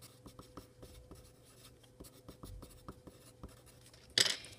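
Pen scratching on paper while notes are written down, a quiet run of short strokes and taps in an uneven rhythm, close by, ending with one sharper scrape.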